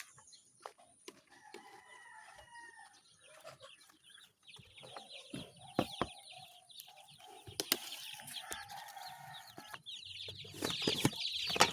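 Chickens on a farm during feeding of a chick, with busy clucking, chirps and flapping wings, a rooster crowing, and scattered clicks and rustles, fairly close and steady, without talk.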